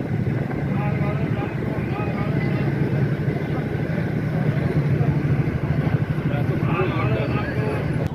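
A passenger ferry launch crossing the river from Nabadwip toward Mayapur gives a steady, loud engine drone with a low rumble, running continuously under a busy mix of chatter and background voices.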